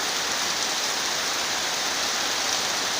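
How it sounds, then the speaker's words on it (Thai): Heavy rain pours down in a steady, dense hiss of drops hitting surfaces, loud and unbroken throughout, with no voices. "แต่ถ้าฝนตกแบบนี้"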